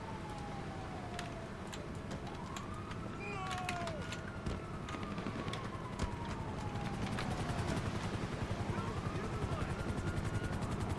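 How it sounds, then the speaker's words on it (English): Police helicopter circling overhead during a getaway in a video game, a steady rotor drone that runs the whole time with a wailing siren sweeping in and out above it. "Okay, so the chopper's a bit of an issue."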